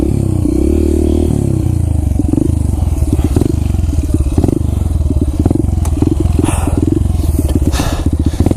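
A dirt bike engine roars continuously while riding a forest trail in Freetown State Forest, loud and close with throttle surges and a steady rapid engine pulse, plus some rattling clatter from the ride.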